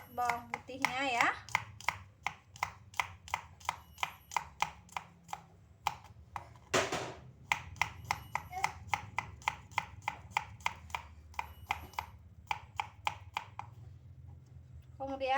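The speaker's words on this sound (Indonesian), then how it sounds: "Langsung aja ini Bunda iris tipis untuk bawang putihnya ya" Two garlic cloves sliced thinly with a knife on a cutting board, giving a long run of quick, evenly spaced crisp taps up close, with a brief pause and a voice speaking over part of it.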